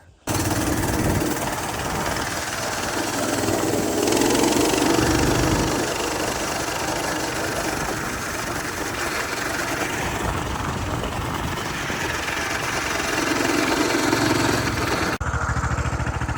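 A small Coleman mini bike engine runs steadily close by for the whole stretch, a continuous buzzing, knocking drone with slight swells in intensity and no pauses.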